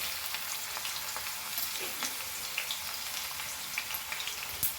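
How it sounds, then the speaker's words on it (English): Chopped onion fries in hot oil for an Indian tadka, a soft, steady sizzle with scattered crackles and pops, close but fairly quiet, with no voices. "So fry this very nicely."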